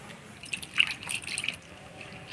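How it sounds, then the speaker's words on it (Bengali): Cut bitter gourd pieces being rinsed with water: splashing, dripping and trickling sounds come in a short close burst, then taper off. "করলাগুলো কাটে আমি ধুয়ে নিলাম।"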